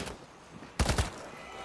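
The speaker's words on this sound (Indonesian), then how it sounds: "Tuh, mereka lagi tembak-tembakan." Gunfire from a video game played through in-ear monitors: a quiet background breaks into a short, loud burst of three or four rapid shots midway, then settles back down.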